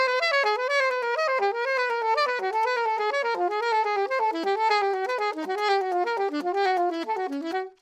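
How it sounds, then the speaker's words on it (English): A jazz melodic scale pattern played on a pitched instrument: a clean, steady run of quick notes stepping up and down in sequence, bright and close, with no talking. "there's this melodic scale that Chad LB taught to the online music studio"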